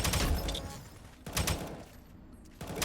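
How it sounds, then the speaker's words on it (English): Gunfire in the video game Aimblox: three sharp shots spaced roughly a second apart over a noisy game background. "It shot me."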